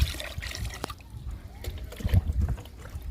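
Moringa leaf plant liquid is poured into a container, soft trickling and splashing with a few knocks and handling sounds, close and brief.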